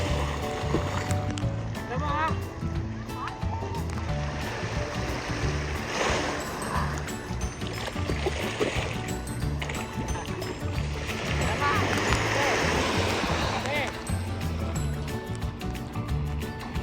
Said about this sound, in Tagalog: Medyo nalakas na po ang alon.